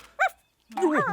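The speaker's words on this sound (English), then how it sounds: "The dog! Get the dog away from" Cartoon dog barking: one short bark, a brief pause, then a longer whining yelp, close and bright with voice-like tone.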